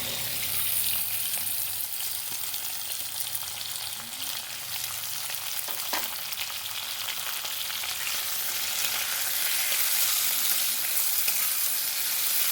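Continuous crackling sizzle of potatoes frying in a hot pan, with occasional stirring scrapes; no voices.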